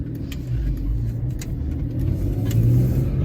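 A BMW M3 engine still cold and driven gently without hard acceleration, giving a loud, steady low rumble from inside the car.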